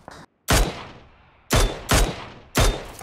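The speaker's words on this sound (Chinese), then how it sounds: "有枪声，是从空投处传来的。" Gunshots from the airdrop area in the video game Peacekeeper Elite, four loud separate shots spaced irregularly about half a second to a second apart, each with a short ringing tail and no talk.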